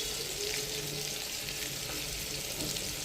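Tomatoes sautéing in a pan with a sprinkle of rock salt for a chickpea kara kuzhambu, giving a steady, moderate frying sizzle with no voices.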